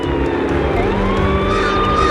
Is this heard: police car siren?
yes